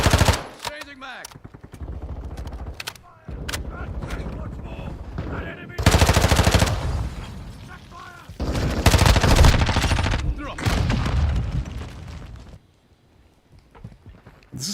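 Rapid automatic gunfire rattles in long loud bursts during a gunfight in the video game Call of Duty Modern Warfare II, with short lulls and brief voices between volleys.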